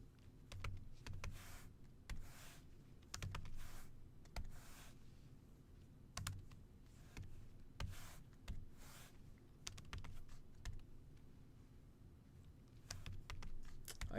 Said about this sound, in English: I'm just typing in these numbers here.